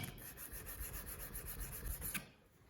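A steel chisel is rubbed back and forth on a sharpening stone in a steady, close scraping stroke that stops near the end, with no talk.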